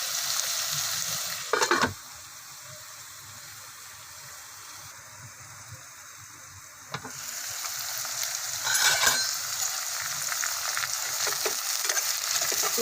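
Chicken frying in a pan for dry chicken Manchurian makes a soft hiss that swells into a louder, busier sizzle with stirring and brief splashy bursts. No voices are heard.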